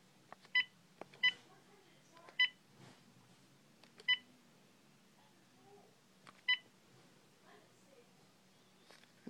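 Phone keypad dialing a number: a handful of sharp, evenly loud touch-tone beeps spaced irregularly over several seconds, with faint background sounds and a bit of quiet voice between them.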